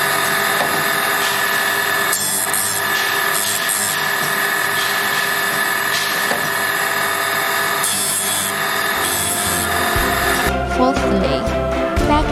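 A TG-870D circular saw blade grinder runs in automatic mode, a steady close grinding whir with rhythmic rubbing and scraping strokes against the blade, shifting in tone near the end.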